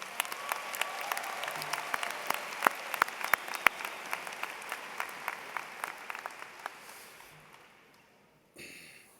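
A high school graduation crowd applauds the school band, with steady dense clapping and a few sharper nearby claps standing out before it fades away toward the end.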